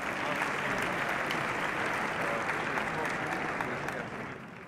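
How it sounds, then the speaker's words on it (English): A round of applause from the crowd at the inaugural swearing-in ceremony for the District of Columbia mayor, council and attorney general, a broad, steady wash of clapping that fades slightly at the end, with a voice faintly under it. "How about giving yourselves a round of applause for being here?"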